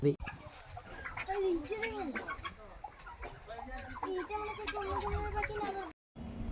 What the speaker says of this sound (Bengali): আপনাদের টার্কি দেখুন আস্তে আস্তে আমি যাচ্ছি এদের অরিজিনাল ডাক আপনাদের শোনাবো ডাক শুনুন